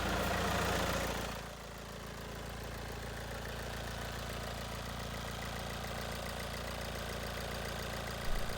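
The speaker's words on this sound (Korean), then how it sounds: "이렇게 한 번에 시동이 아주 잘 걸리네요." A Kia K7 2.2 diesel R engine turns over and catches at once, then settles into a steady, even idle heard up close and alone.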